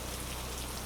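Rain falls in a dense, even hiss of droplets, a soft continuous wash with no voices over it.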